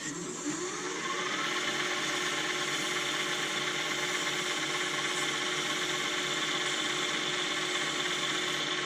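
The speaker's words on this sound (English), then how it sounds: "apparently we're down to wet sanding now" A lathe spins a wooden pen during wet sanding, a steady whirring motor hum that holds evenly after a brief rise at the start, with no talking.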